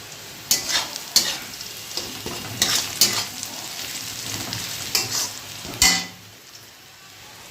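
Fish fry in a pan with a steady sizzle, while a spoon stirs and scrapes against the metal in sharp, irregular strokes; no talk is heard.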